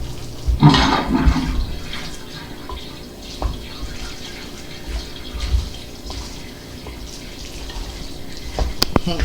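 Water gurgles and rushes through septic system plumbing as the septic pump kicks on, rising and settling irregularly with drips and splashes, steady and moderately loud, with no voices.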